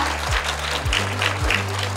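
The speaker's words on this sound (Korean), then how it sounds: "박수 한번 부탁드리겠습니다" A seated audience at a ceremony appointing members of a citizen observer group for a nuclear power plant applauds in a steady, even patter of clapping with a low hum running underneath.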